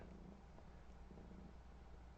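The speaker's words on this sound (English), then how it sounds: "I'm not sure if you can hear the little engine purring." A pet cat purring after feeling unwell, a soft continuous low rumble with gentle rhythmic pulses, very faint and close, with no voices.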